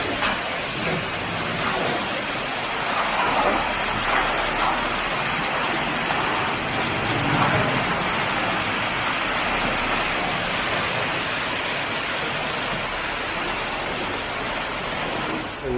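Concrete pours steadily for a wall at a house job site, a dense, continuous rushing wash like a waterfall that holds loud and even the whole time, with no talk over it.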